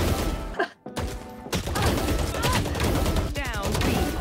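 Gunfire rings out in a Valorant match played as Killjoy, with bursts of sharp shots among game effects and a brief dropout, loud and close throughout.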